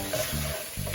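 Squid fry is stirred in a pan, a short burst of sizzling with spatula scrapes and rattles, close and steady for under a second.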